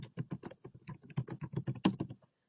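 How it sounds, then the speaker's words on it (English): Quick bursts of computer keyboard typing as a name is entered into a library search, crisp close key taps in an irregular run lasting about two seconds. "do a search for, say, William Grant Still, you could type in that name"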